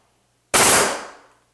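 A nail gun fires into interior cladding with a single sharp, loud pneumatic crack and a hissing burst of air that fades over about a second, heard close and alone.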